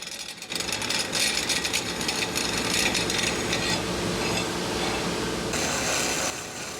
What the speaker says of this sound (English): I'm using a rollaway bandsaw here to cut these bars into the 4 portions of the table's base